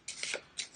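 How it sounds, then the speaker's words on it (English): Board game cards from an Arkham Horror deck being shuffled close by, two quick riffling bursts within a second, soft and with no talking. "Give them a shuffle."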